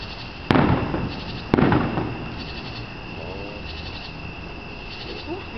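Two sharp, loud fireworks bursts from an Independence Day eve display echo and rumble away into the distance outdoors, with a faint crackle trailing after each boom.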